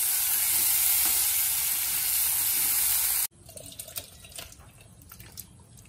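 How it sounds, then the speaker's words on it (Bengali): A loud, steady sizzle of onion, boiled potatoes and eggs frying in a pan for about three seconds, then an abrupt cut to quieter clinks and scraping. "পেঁয়াজ, সিদ্ধ আলু, ডিম একটু ভাজা ভাজা করে নিয়ে জল দিয়ে দেবো।"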